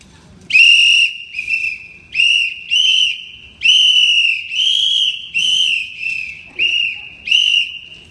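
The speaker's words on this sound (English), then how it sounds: "Sound your whistles, boys." Police whistles blow in a series of about ten shrill, sharp bursts, some short and some held, loud and close with brief gaps between.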